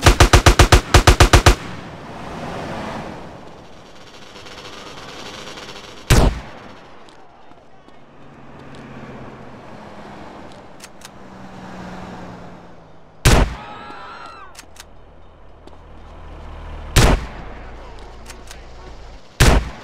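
Video game gunfire from GTA Underground: a rapid burst of shots opens, followed by single loud, sharp reports spaced several seconds apart over a low ambient game background, with no talking.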